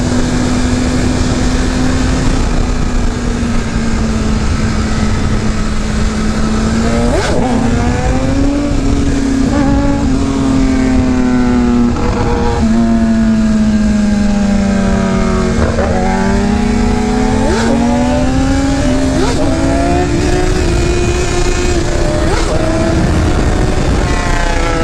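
A Kawasaki 1000RR motorcycle engine revving hard during a wheelie, a loud sustained roar with repeated rising and falling throttle surges over wind noise, close and without talk.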